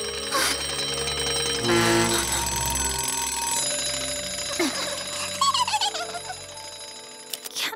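Alarm clocks ringing in a Miraculous: Tales of Ladybug and Cat Noir cartoon, loud continuous electronic bell tones mixed with cartoon music and effects.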